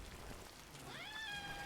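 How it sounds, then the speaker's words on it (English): A pet cat gives a loud, rising, drawn-out meow that holds steady, heard over a soft background hiss that resembles rain. "That's just my cat screaming at me."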